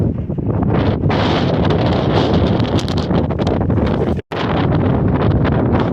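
Strong gusting wind buffets the microphone of a rollerblader skating along a Utah road, a loud, continuous roar with rustling bursts and one momentary dropout.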